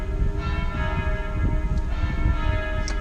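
Church bells ring loud and close in Montreal, with sustained, resonant tolling that blends with a steady city background and no talk.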